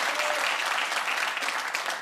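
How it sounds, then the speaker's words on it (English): Studio audience applause at a taped panel comedy show, a dense, steady wash of clapping from a large crowd filling the whole stretch at full volume, with no voices over it. "I always forget politicians need the clap at the end."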